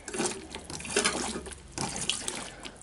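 A small shower sump pump runs and pumps water after being primed, giving a steady close-up rush of flowing water like a running tap, alone with no talk.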